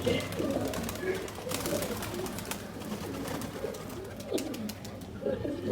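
Soft pigeon coos and bird calls repeat throughout, close by in a pigeon loft where pigeons are bathing, over a steady low hum with faint rustling in the background.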